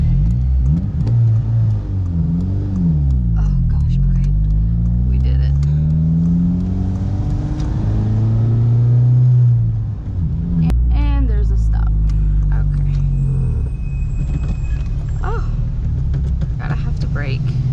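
A turbocharged Honda Civic engine revs up and down in a rising and falling drone, then dips and nearly stalls before picking up again, with voices talking inside the car throughout.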